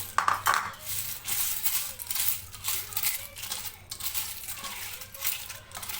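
Cornflakes being stirred into melted chocolate in a bowl, giving repeated light crunchy scrapes and clinks of a spoon in an irregular rhythm, close and fairly quiet.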